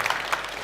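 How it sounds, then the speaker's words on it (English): Brief burst of audience applause at a FOSDEM open-source conference talk, a soft, distant patter of clapping over roughly a second. "so I'm glad you applauded the new grid"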